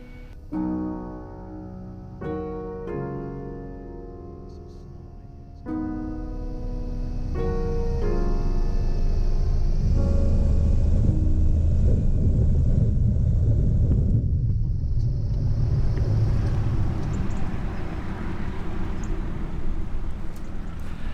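A light aircraft on final approach and landing on runway 27 at Turweston aerodrome. A steady, loud cockpit rumble of engine and wind swells and holds, following a short tonal opening.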